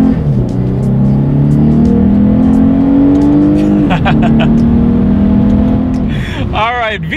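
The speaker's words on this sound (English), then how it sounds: "test out the acceleration along with the paddle shifters, and we'll see how quickly we can get this naturally aspirated V6 up to speed" A 2019 Lexus IS 300 F Sport's naturally aspirated V6 pulls hard and loud, its pitch climbing steadily, dropping briefly at each quick paddle-shifted gear change, then climbing again, with brief talk near the end.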